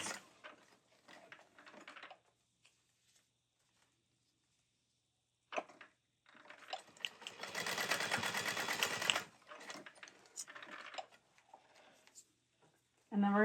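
Sewing machine stitching webbing into a 3/8-inch seam on an Emma Backpack: one loud, steady run of about three seconds, with speech before and after it.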